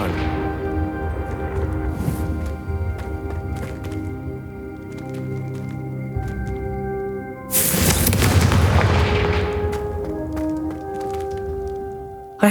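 A Confringo spell in Hogwarts Legacy erupts in a loud fiery blast over a sustained musical score, with a swelling rumble and crackle that lingers for several seconds.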